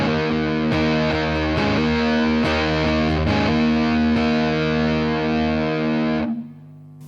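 An electric guitar through an overdrive pedal rings out in gritty sustained chords with a few picked accents, then cuts off sharply near the end.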